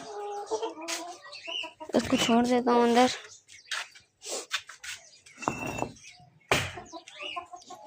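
Chickens cluck close by in a village yard, short rhythmic calls coming and going, while someone talks over them throughout.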